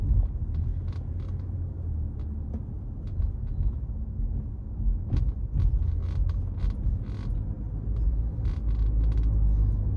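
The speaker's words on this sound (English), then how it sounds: "That's my chair making the noise that you hear." A chair creaks repeatedly inside a moving vehicle on a city drive, with short irregular creaks scattered over a continuous low road rumble.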